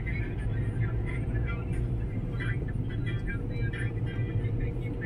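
Steady engine and tyre rumble from inside a car travelling a road toward Kumbhalgarh, continuous and fairly loud, with people talking over it.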